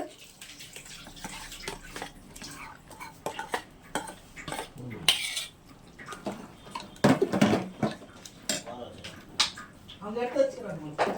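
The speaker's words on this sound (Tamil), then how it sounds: "இப்போ நல்லா இதை கிண்டி விட்டுறலாம்" Metal spoon scraping and clanking in a pan while a thick chicken curry is stirred, irregular bursts with watery sloshing, and a person talking throughout.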